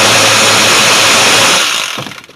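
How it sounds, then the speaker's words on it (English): A cordless power tool runs loud and steady, backing out 10mm-head steering bolts on a Chrysler 300, a continuous whirring drone that fades out near the end. "Hopefully this cordless isn't too loud for you."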